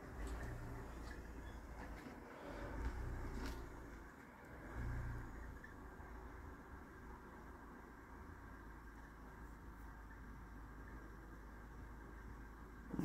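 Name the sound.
car passing by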